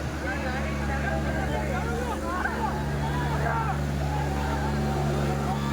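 A tractor engine drones steadily at a threshing ground in rural Karnataka, a constant low rumble beneath a crowd's babble and voices throughout.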